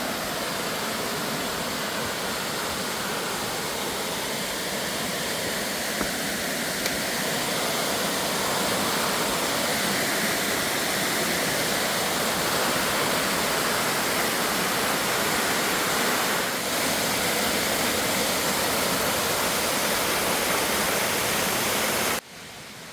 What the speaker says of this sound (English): Cool waterfalls though, huh?